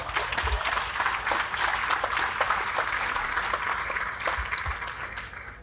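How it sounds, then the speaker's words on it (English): An audience at a 2021 design-build competition awards ceremony claps for several seconds, a dense, even round of applause from a room full of people. "Please give them a round of applause for their help."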